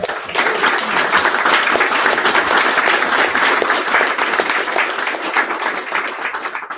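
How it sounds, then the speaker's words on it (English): Sustained audience applause, a dense wash of many hands clapping at once, loud and steady before tapering slightly at the end. "Round of applause for them."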